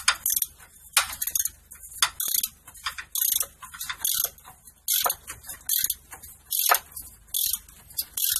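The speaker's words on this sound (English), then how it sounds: "hold the wrench and ratchet the bolt off" A ratchet wrench spins a bolt off the steering box of a Nissan Navara, sharp clicking bursts repeating in a steady stop-start rhythm, close and clear.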